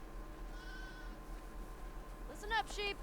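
Sheep bleat in a herding minigame of The Last of Us Part II, one faint wavering call and then a louder pair close together, over a low steady hum.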